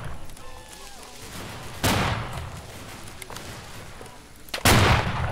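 Musket volleys boom out at a 1st Virginia Cavalry line battle reenactment, two sharp loud blasts a few seconds apart with fading rumble, while people shout and talk nearby in between.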